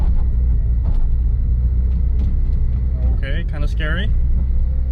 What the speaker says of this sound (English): The RPM is kind of high. It's like 1500 for some reason.